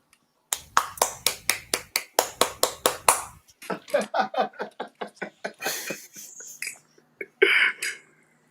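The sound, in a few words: hands clapping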